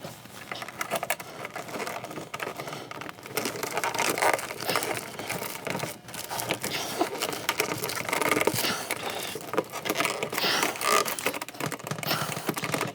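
A dust collection pipe is shoved into a coupling on a DIY bandsaw, giving a steady run of scraping, clicking and rubbing plastic noises close by, with no talk.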